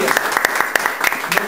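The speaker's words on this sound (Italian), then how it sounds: "Ludovico Noia, al quale io farei un applauso." Loud, close applause from a crowd, with individual sharp claps standing out in an uneven rhythm under a voice that carries on talking.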